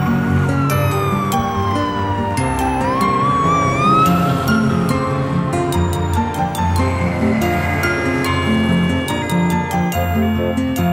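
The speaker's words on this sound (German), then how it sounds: "Das Polizeiauto." A wailing police car siren from a children's cartoon toy-car scene sweeps up and down continuously, loud and close, with music-like tones layered around it.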